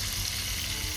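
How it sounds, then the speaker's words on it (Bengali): Onions frying in a kadai, a dense, continuous hiss of sizzling oil heard close and fairly loud for a moment, with no talk over it. "আর এদিকে আমার পেঁয়াজ ভাজা চলছে"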